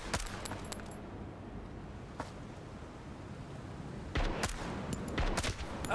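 MP5 submachine gun fire in the shooter game Road to Vostok comes in quick, faint bursts of rapid shots, separated by quieter gaps of ambient game noise.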